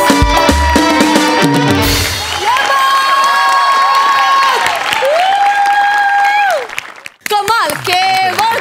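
A studio audience at the Marathi comedy show Maharashtrachi Hasya Jatra applauds and cheers loudly for several seconds, with bright musical tones ringing over the clapping and a brief drop before it swells again.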